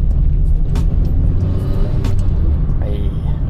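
A 50-year-old Datsun car's engine runs close and loud with a deep, steady rumble and a few brief clunks and knocks over it.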